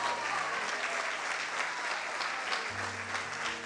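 A church congregation at a Portuguese-language service claps warmly and continuously, the crowd applause running throughout over low, sustained keyboard tones.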